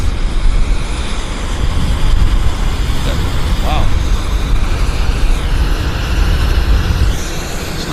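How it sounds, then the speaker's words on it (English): An American Airlines airliner taking off at Vancouver Airport produces a loud, continuous broadband jet roar with rising whine tones, while a person briefly exclaims over it. "American Airlines is cleared for takeoff"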